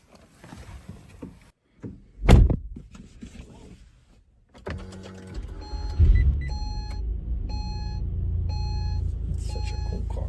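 A 2010 Acura ZDX setting off on a drive: a door thump and mechanical clicks, then the engine starting and idling with a steady low rumble while a repeated chime beeps several times, near and fairly loud.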